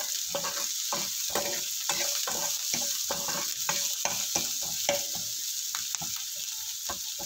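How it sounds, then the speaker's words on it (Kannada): Chopped onion frying in coconut oil for a tondekai semi-gravy, a steady crackling sizzle with a run of stirring scrapes and spoon knocks, close and alone with no talk. "ಈರುಳ್ಳಿ ಫ್ರೈ ಆಗಲಿ."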